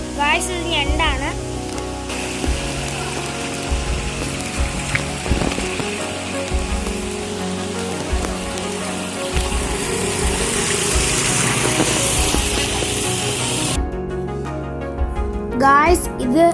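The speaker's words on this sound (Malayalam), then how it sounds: "ഇത് മഴക്കാലത്ത് മാത്രം വരുന്ന ഒരു വെള്ളച്ചാട്ടമാണ്." A rainy-season waterfall on a coffee plantation gives a constant rushing wash of water while people talk over it and other tonal sounds come and go.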